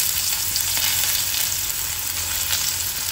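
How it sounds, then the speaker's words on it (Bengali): Onions and panch phoron spices sizzle steadily in hot oil, a continuous close crackling hiss with no breaks and nobody talking. "দিলাম পেঁয়াজ ফোড়ন"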